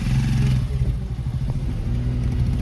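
A motorcycle engine rumbling on a road, a loud low throb that dips briefly and then returns as the bike goes past close by.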